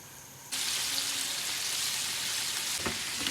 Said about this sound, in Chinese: 油热直接下锅